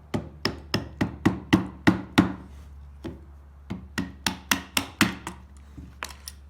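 Sharp metallic taps ring out in a quick series as a pin is driven out of the roof motor on a Porsche 981 Boxster, pausing once before another run of blows.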